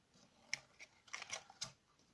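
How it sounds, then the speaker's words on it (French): Small scissors are handled close by, giving a few faint, quick metallic clicks and snips scattered in an irregular rhythm over a quiet background. "Des petits ciseaux."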